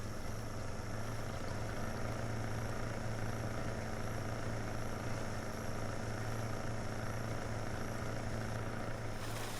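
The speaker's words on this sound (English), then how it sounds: "It feels like they changed the sound of the engine." The engine of a Titaneous Maximus 6x6 truck in Snowrunner drones in a steady, loud, low rumble with a constant hum and no pauses, heard on its own without talk.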